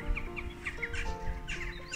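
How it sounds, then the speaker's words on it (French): Several birds squabbling near a castle keep, with repeated sharp, clucking calls and chirps over a steady low background rumble, fairly close and continuous. "C'est une bagarre d'oiseaux"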